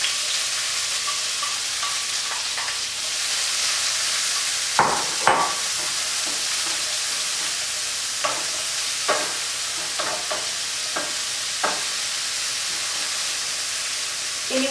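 Diced white onion, sweet red and orange peppers and garlic cloves frying in olive oil in a pan, a steady close sizzle and hiss with occasional sharp stirring clacks.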